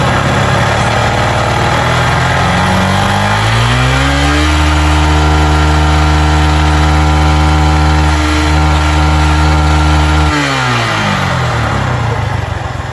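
A car engine suspected of connecting rod noise, loud and close, revving up from idle, holding a raised steady pitch for several seconds, then dropping back down.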